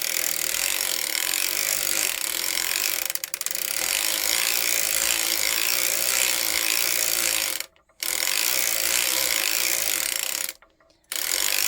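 A hand-cranked circular sock knitting machine turns slowly, giving a steady, close ratcheting clatter of needles and gears that drops out in two brief pauses.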